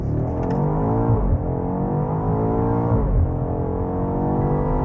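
A BMW X5M Competition accelerates hard, its engine note rising in a steady loud roar that dips briefly twice as gears shift, heard close up with no talking.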